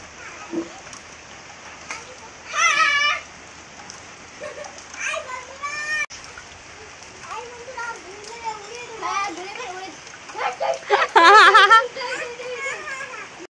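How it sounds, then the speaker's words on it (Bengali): Rain patters steadily in the background while children's voices chatter and call out nearby. "এদিকে বৃষ্টি পড়ছে।"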